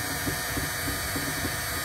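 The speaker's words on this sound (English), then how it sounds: "This is real time, me winding the sinew puller all by myself." A sinew puller being hand-wound, giving a soft, steady mechanical whirring with faint rhythmic clicks repeating about every quarter second, close and continuous.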